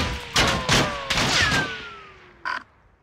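Loud gunfire in Call of Duty: Warzone, a few sharp close reports in quick succession followed by one more shot after a pause, with a whistling tone trailing underneath.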